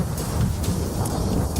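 A steady roar of thunder, like a lightning strike, rumbles low and continuous with a rain-like hiss over it, loud and close throughout, with no voices.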